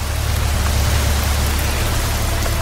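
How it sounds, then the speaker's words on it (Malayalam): Heavy rain pours steadily as a constant, dense hiss with a low rumble underneath, unbroken and close throughout, with no voices. "മഴ പെയ്യുകയാണ്."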